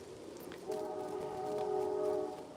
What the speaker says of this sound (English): Can you guys hear the train?